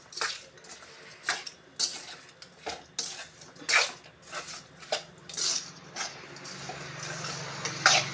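A spoon repeatedly scrapes and taps against a bowl as chicken pickle is tossed and mixed, in uneven strokes, close and clear, without talking.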